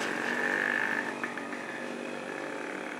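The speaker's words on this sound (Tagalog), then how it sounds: "Ayan, yung mga motor." Motorcycles run along a hometown street in the morning, one buzzing engine loud and near at first, then fading to a steady, softer drone of traffic.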